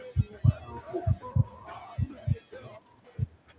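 Heartbeat sound effect in a game: paired lub-dub thumps repeating at a slow, steady pace, while someone speaks quietly over them.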